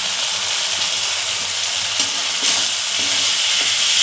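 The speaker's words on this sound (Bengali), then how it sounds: "ব্রোকলি আর আলু দিয়ে একটু কষে নেব" Broccoli and potatoes frying in a pan, a steady close sizzle with faint stirring scrapes throughout, no voices.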